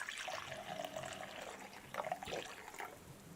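Water poured for a morning toast ritual, a soft trickling splash that sounds like light rain, faint and close, rising and falling in uneven bursts with no talking.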